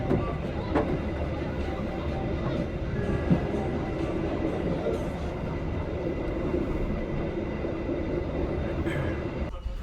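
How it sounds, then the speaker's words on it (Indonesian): Steady low rumble of the Supas passenger train stopping at Sidoarjo station in Indonesia, with faint rail clatter and occasional muffled voices nearby, continuous throughout. "sekarang kereta api Supas berhenti stasiun Sidoarjo"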